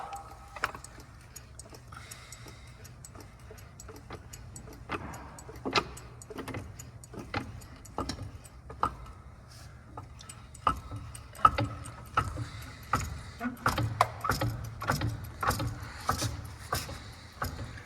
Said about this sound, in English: And we're going to lift this one up.